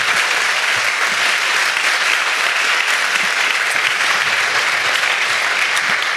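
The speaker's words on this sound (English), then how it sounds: "Let's give them a round of applause for their work." Audience applause for students at a Merced County schools report event, a steady, dense wash of clapping that holds evenly loud from start to finish with no talking over it.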